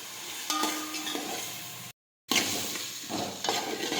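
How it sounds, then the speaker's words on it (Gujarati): Cucumber sautéing in a pan gives a steady close sizzle with a few stirring scrapes, cut by a short silent gap before the frying resumes. "હવે આપણે કાકડી લઈશું હવે આપણે સડવા દઈશું"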